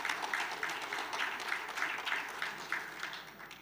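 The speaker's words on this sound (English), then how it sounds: "Can you give him a big round of applause pour venir en scène?" Quiet, distant applause rises from the audience at the Lake Chad Governors Forum as the governor comes on stage, a soft steady patter of clapping that fades toward the end.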